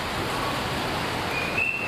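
Rain falls steadily during a storm, making a constant, even hiss that stays at the same level throughout, with a faint high tone appearing near the end.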